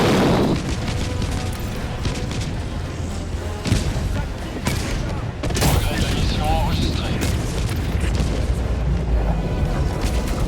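Enemy artillery fire in the video game Army of Two: heavy booms and thuds rumble through a dense, noisy battlefield mix of mechanical clatter, with a voice talking over parts of it.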